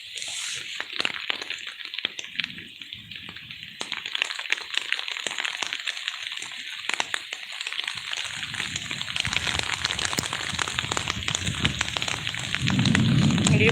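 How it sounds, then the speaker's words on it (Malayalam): Heavy rain falling near a home at the edge of a forest, a continuous dense hiss with scattered drips and cracks that swells louder toward the end. "ഒരു മഴ വീഡിയോ"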